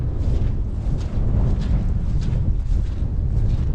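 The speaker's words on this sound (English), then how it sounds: "and the wind is coming this way." Wind blowing outdoors in woodland during a dog walk, a loud constant low rumble of gusts hitting the microphone, with no talk.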